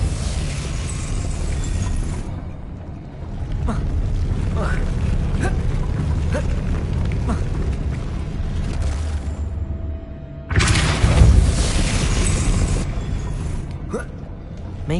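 A Depulso spell in Hogwarts Legacy lands as a loud, sudden whooshing blast about ten seconds in, rising above ongoing mechanical rumbling and scattered clicks of the game environment.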